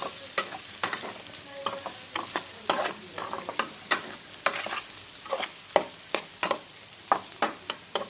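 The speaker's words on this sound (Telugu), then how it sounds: "తిప్పండి, మొత్తం కలుపుకోండి." Boiled prawns stirred and fried in a pan for a prawn curry, with a steady sizzle underneath and repeated sharp scrapes and taps of a spoon against the pan in an uneven rhythm, close and clear.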